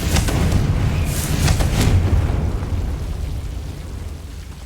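Confringo fire spell exploding in Hogwarts Legacy: a loud, deep booming blast with a burst of crackling bursts near the start, rolling on and slowly fading over several seconds.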